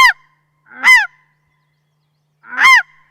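A goose call mimics snow goose honks: three separate two-note honks, each loud, clear and close, with short gaps between them and the third sounding after a longer pause.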